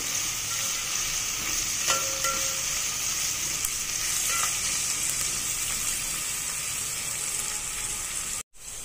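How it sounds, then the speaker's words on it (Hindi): Onions frying in oil in a pan until light brown for mutton dalcha, a continuous loud hiss and sizzle with faint stirring taps, no voices. "इसे अच्छी तरह से लाइट ब्राउन होने तक हमें इस तरह तेल में भून लेना है।"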